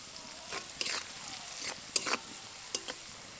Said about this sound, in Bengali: এই সবগুলো একসাথে ভেজে নেব।